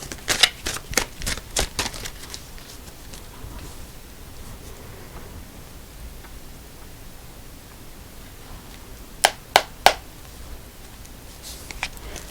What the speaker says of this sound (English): shuffle these out to give them one more good shaking